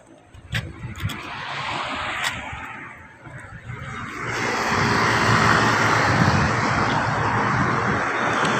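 An aircraft engine roars overhead, growing louder and fuller in the second half, with a few sharp clicks near the start.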